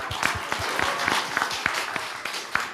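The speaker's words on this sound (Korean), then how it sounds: "정말 멋있는 박수를 한번 해주세요." Applause from a church audience honouring a man who donated a kidney to his father, a steady wash of many hands clapping with a few sharper individual claps standing out, continuous and moderately loud.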